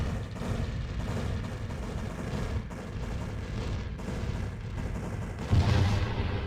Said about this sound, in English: You see the size of that explosion?